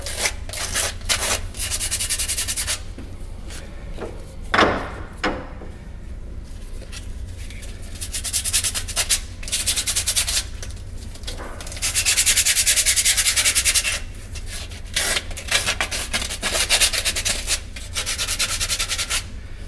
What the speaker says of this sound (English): And so now we need to sand the fitting